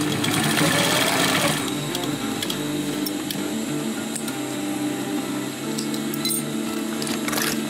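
A sewing machine runs steadily through backpack fabric, its motor hum and rapid needle clatter close and continuous, briefly louder at the start.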